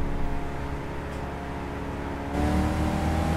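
Race car engine revving at the race start in Gran Turismo 6 game audio, a steady droning whir that swells louder partway through as the engine picks up.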